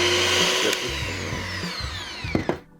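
An electric hand mixer whirs steadily through apple cider bread batter, a close, loud motor drone that slows and winds down at the end with a couple of knocks.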